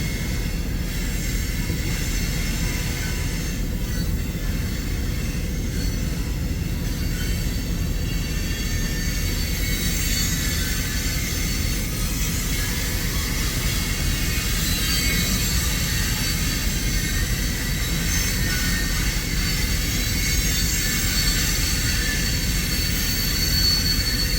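A freight train rolls past with its rear DPU locomotive approaching, a continuous loud rumble of wagons and wheels with faint metallic squeals throughout, and no voices.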